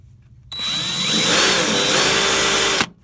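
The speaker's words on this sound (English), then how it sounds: "I'm going to start with a little drill," A small drill bores a pilot hole into a broken bolt, starting abruptly with a sharp, whining spin that holds for just over two seconds before cutting off, loud and close with no talking.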